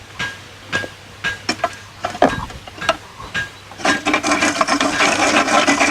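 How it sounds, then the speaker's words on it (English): Wood chunks fed through a grinder that breaks them into small cubes: scattered knocks and scraping thumps at first, then a denser, louder rasping churn that builds in the last two seconds, with no voices. "we'll take that and it'll go into a grinder"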